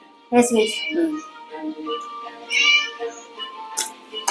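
A cat meows several times in the game Scary Teacher, short tonal calls spaced across the clip over faint background music.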